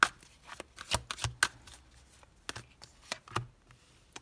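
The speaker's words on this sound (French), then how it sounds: "Allez, on va poser les 6 cartes." Six tarot cards being laid out on a table, each card giving a crisp, close slap or flick in an irregular series of quick strikes, with soft shuffling between them and no talk.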